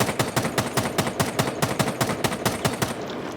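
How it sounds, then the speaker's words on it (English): Rapid automatic gunfire from Rainbow Six Siege, a steady string of about fifteen evenly spaced shots hammering a wall, loud and close, stopping just before the end. "You put 2 bullets on the wall and just flick between these 2 bullets."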